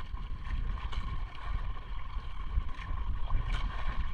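Strong northeast monsoon wind blowing at sea, a steady loud broadband roar with gusty buffeting on the microphone throughout, mixed with faint water and boat noise.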